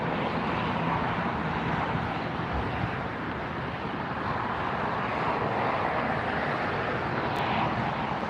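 An ANA Boeing 777 airliner arriving at LAX from Tokyo, heard as a continuous loud, broad jet roar that holds steady throughout, with no voices.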